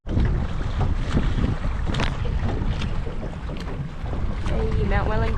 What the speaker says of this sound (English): there's a bit more wind around